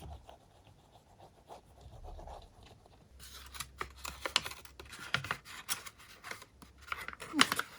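Scissors cut through craft paper while an envelope pocket is trimmed, giving a run of close, crisp snips and scratchy rustles that grow busier and louder partway through.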